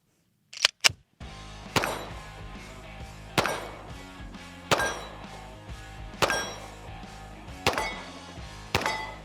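Glock 20 SF pistol firing with its factory trigger, several sharp reports about one and a half seconds apart, each loud blast ringing out with a decaying tail, preceded by two quick metallic clicks.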